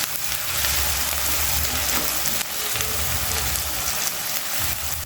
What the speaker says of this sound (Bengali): গ্যাসটাকে হাই ফ্লেমে রেখে 3 থেকে 4 মিনিট ভেজে নেব।